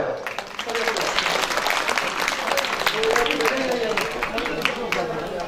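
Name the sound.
applause for three dignitaries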